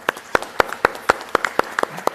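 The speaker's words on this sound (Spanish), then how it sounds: "les damos un aplauso muy grande" A few people clapping in a sparse, uneven rhythm, crisp individual claps rather than a full roaring audience applause, close and without talk.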